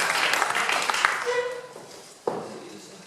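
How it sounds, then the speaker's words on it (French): Audience applause at a political conference in Béziers, a dense wash of clapping from a crowded hall that fades over a few seconds, with a brief sharp knock near the end. "C'est lui qu'il faut applaudir."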